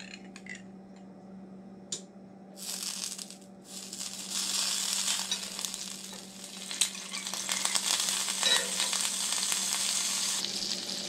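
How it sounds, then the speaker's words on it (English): Margarine sizzles and fries in a hot skillet, a broad steady hiss that swells after a short quiet start and keeps going loud and even, with a faint low hum underneath. "in your skillet, and then you need to also add in some margarine"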